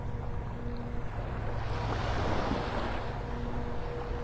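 Gulf surf at Vanderbilt Beach in North Naples, Florida, washes ashore on an incoming tide, a steady roar that swells into one fuller wave midway, with some wind buffeting the microphone.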